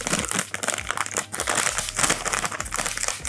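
A plastic Maggi So Juicy seasoning sachet is crinkled and cut open with scissors during chicken dinner prep, giving close, continuous rustling and crackling for about three seconds.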